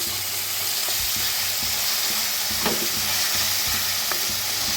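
Finely chopped onion with a pinch of asafoetida frying in a pan for shev bhaji. A steady, dense sizzle with a few soft stirring knocks and scrapes. No voices.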